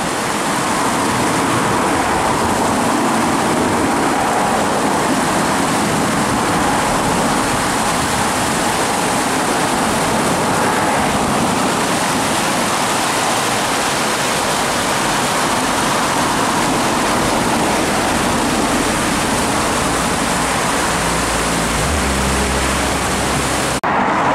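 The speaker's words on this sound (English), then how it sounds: "this is more of a beck, isn't it, really, than a waterfall." A small beck tumbles through a valley, its broad rushing water noise loud and close, steady and unbroken throughout with no speech.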